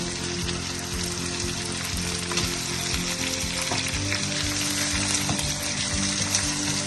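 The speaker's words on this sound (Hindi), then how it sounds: "अब हम इसको 3 से 4 मिनट जो है चिकन को फ्राई कर देंगे" Chicken pieces fry in a pan with salt, making a steady, dense sizzle with occasional crackles and light stirring, close by and constant, no voices.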